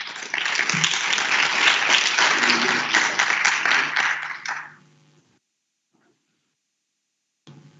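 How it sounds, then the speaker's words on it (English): Conference audience applause rises into a full burst of dense clapping for about five seconds, then stops abruptly into near silence, with a brief sound returning at the very end. "Let's give her a better clap."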